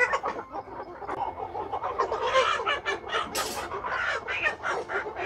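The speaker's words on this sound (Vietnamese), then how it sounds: "Cho chị cho em con gà mái ngon ngon đấy." A hen clucks at a market, making a run of soft, irregular clucks and squawks at close range, moderately quiet, with busy background noise around it.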